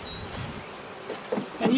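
Honeybees buzzing around an open hive during an inspection, a faint steady drone with small rises as individual bees pass close, plus light handling noises.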